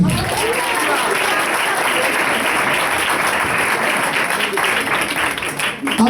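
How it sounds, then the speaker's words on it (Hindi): Loud, sustained audience applause at a church gathering led by a pastor, a dense and even roar of many hands clapping together that holds strong for several seconds before dipping slightly near the end. "जोरदार ताली दीजिए।"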